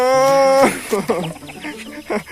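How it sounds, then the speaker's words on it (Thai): Panicked chickens squawk and cluck loudly up close, a sharp rising cry followed by a burst of rapid agitated clucks and flapping-fowl calls. "ไก่แตกตื่นหมดเลย"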